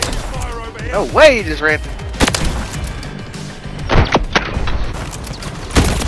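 Gunfire in Modern Warfare 3, with a few sharp, booming shots spread through the clip under a player's excited voice.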